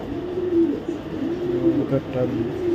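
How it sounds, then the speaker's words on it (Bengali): A racing pigeon from a loft, one that has flown several races, coos in soft, repeated low throaty phrases, close by and clear. "আমার লফটের বেস্ট একটা পিজন, বেস্ট পিজন, একদম ফুল ডাউন শেপের কোয়ালিটি দেখেন।"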